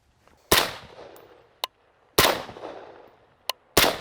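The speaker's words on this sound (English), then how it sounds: "now we're going to shoot some frangible ammo so we can shoot some steel and be safe" Rifle shots firing frangible ammunition at steel targets on an outdoor range: three loud, sharp cracks about a second and a half apart, each answered by a short metallic ping off the steel.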